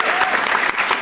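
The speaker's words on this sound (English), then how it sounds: "Big round of applause for the debate" A crowd at a university debate between LSE and Cambridge at the LSE Africa Summit bursts into sustained applause, dense and steady clapping that fills the room for the whole moment.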